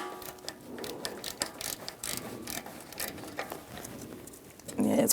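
Ratchet with a 13mm socket works a corroded starter cable nut free on a 1999-2025 Ford E-350 Super Duty 5.4L V8, giving a quick run of close, rapid pawl clicks with a brief burst of handling noise at the end.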